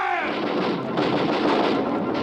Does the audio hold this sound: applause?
no